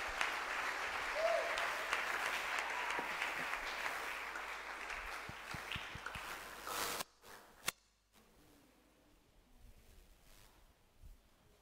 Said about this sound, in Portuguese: pensei que alguém ainda está aplaudindo o nome do Senhor